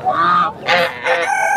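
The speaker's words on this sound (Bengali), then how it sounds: "এই যে রাজহাঁস দেখা যাচ্ছে এখানে।" Geese at a pigeon and poultry market in Bheramara, Kushtia, give loud, close honking calls in two or three drawn-out bursts with short gaps between.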